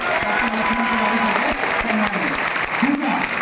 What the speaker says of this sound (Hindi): मैं चाहता हूं कि एक बार सम्मान में इनके आप जोरदार ताली बजाएं।